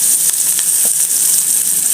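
Tilapia pieces frying in oil for a wet fry fish dish, with a steady, loud sizzling hiss and a few light crackles.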